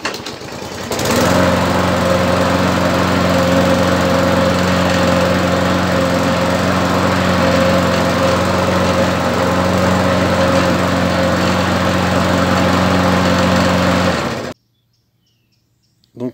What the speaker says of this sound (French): je vous ai fait voir le moteur en marche